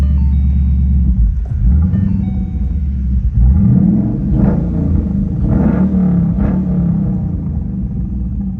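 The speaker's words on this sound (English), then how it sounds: "It has a pretty nice rumble to it." A 2013 Boss 302 Laguna Seca sports car engine idles with a deep, steady rumble, close by and loud, swelling briefly as it revs.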